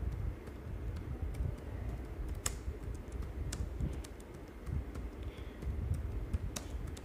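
A book title is typed on a computer keyboard in a quiet room, a quick, uneven run of light clicking keystrokes with a few sharper key taps and short pauses.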